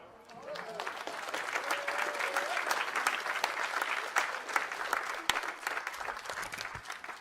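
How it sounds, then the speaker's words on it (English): An audience applauds a guest speaker at an honoring and healing gathering, sustained steady clapping from a crowd for several seconds with a few sharper claps near the end. "one more round of applause for Daisy, as that took a lot of courage"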